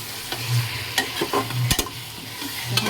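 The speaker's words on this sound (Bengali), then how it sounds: "এখানে মাংসের মশলা কষে বাটা নিয়ে দিয়ে দিয়েছি" Ground meat spice paste frying in a pan with potatoes nearby, stirred with repeated scraping strokes and clattering spoon knocks over a continuous close sizzle.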